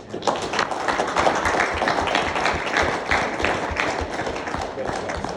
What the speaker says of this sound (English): can we just get a round of applause for Tom?